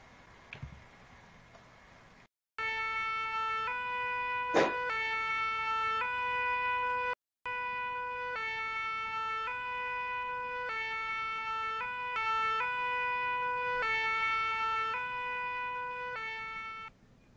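Ambulance siren in Farming Simulator 17, a steady wailing tone of repeated stepped pitch changes that holds loud for most of the stretch, broken by two brief dropouts, with a short sharp burst near the start.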